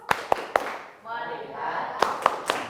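Classroom of pupils performing the 'tepuk fokus' clap rhythm: three sharp claps, a short spoken chant, then three more claps, all close and loud.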